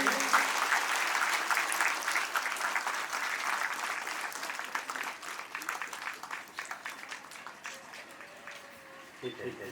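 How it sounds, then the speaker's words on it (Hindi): An audience at a Christmas gathering at Don Bosco Bichna bursts into sustained applause, loud dense clapping that gradually thins and fades toward the end. "कोई ताली बजाएंगे।"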